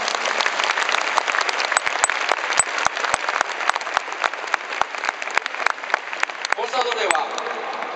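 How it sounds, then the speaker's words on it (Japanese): Broad crowd applause for a football team and its staff at the Sapporo Dome on the season's final match day, a dense steady patter punctuated by sharp individual claps. A voice murmurs faintly near the end. "チームスタッフ選手たちに もう一度大きな拍手をお願いいたします。"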